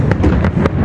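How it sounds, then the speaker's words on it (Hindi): Fireworks sky shots launched from a ship over the water during the Matariki festival in Wellington, New Zealand, bursting in four loud booming pops about every quarter second over a steady crowd-and-crackle background. "ये पूरे तरीके से स्काई शॉट है जो बीच में शिप से छोड़े जाते हैं"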